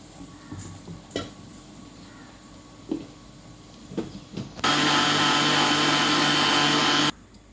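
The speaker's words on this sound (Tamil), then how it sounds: "இப்போது மிக்சியில் போட்டு மறுபடியும் அடிக்கிறேன்." A kitchen mixer grinder whirs loudly and steadily for a couple of seconds, grinding coconut with water for coconut milk, after some close clatter of handling the jar, then stops abruptly.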